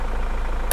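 A 2015 Hyundai H-1 van with a CDI diesel engine and automatic gearbox idles smoothly and quietly, a low steady rumble with one brief click near the end.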